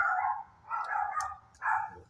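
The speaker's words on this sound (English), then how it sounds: "That's my dog. Our dog." A pet dog barks indoors, three loud, close barks in quick succession with short gaps between them.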